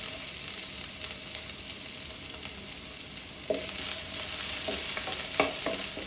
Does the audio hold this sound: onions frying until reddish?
yes